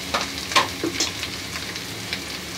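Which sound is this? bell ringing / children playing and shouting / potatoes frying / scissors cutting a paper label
potatoes frying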